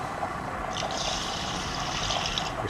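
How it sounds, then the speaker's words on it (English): Water poured into an Instant Pot inner liner holding one cup of brown basmati rice, a steady close trickling splash running continuously for a few seconds with no talk. "Place 1 cup of rice in the IP liner. Then add your water."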